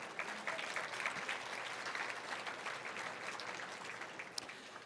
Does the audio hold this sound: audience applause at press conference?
yes